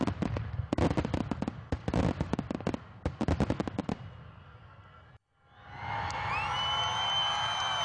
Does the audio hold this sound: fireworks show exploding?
yes